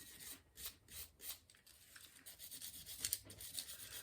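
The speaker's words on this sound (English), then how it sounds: "And this one has a little bit of grease on it. Wire brush here." Wire brush scrubbing grease off a metal bicycle fork part, a series of quick rasping strokes, close and fairly quiet, with no talking.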